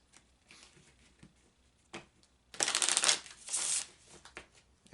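Tarot cards shuffled on a table give a few light taps and slides, then a loud, close riffle of about a second and a half, followed by another shorter shuffle before quieting.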